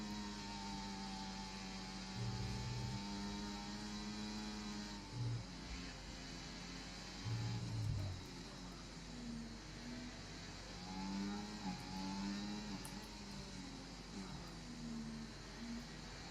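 Race car engines in the F1 24 racing game, a steady mid-pitched drone with rising and falling revs and gear shifts, several cars in close pack racing, continuous and moderately loud with no talk.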